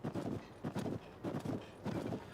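Horse hooves clip-clopping at a steady walking rhythm in Tears of the Kingdom, four soft, evenly spaced pairs of hoofbeats, faint and without talk.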